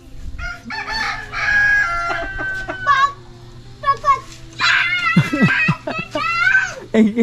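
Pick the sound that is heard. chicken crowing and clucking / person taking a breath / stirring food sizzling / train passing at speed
chicken crowing and clucking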